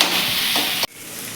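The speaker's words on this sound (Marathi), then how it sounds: "कांदा घालायचा आहे आपल्याला त्यामध्ये आणि फास्ट गॅसवरती आपल्याला आहे एक दोन मिनिट साधारणतः परतून घ्यायचा" Onion sautéing on a high gas flame, a steady close hiss of sizzling with a light stir, cutting off abruptly near the end.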